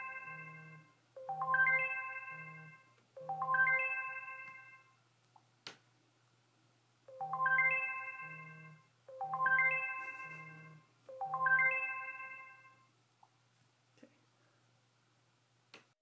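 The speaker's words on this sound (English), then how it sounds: "you can hit the little phone icon and it'll make your phone ring so you can find it" A phone rings out after being triggered by the find-phone function on a Wyze Watch 47mm: a melodic electronic ringtone plays in repeated short bursts of rising tones, loud and close, with pauses between phrases and no talking.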